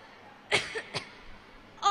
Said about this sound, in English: where the hell did I get this cough from?